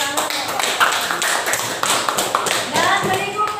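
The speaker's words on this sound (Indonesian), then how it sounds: "Ya, kita beri tepuk tangan." Classroom applause from a group of students in an Indonesian junior secondary school science lesson, a dense stretch of clapping that carries on steadily for several seconds with no talk.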